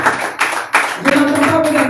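A church congregation claps and cheers during a lively sermon, with a few loud, sharp claps at the start giving way to a denser mix of clapping, voices and exclamations.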